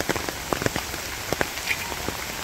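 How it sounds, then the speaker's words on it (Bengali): Heavy rain falls in a village, a soft continuous patter with scattered louder drips and splashes landing close by, fairly quiet overall and with no talking. "খুব বৃষ্টি।"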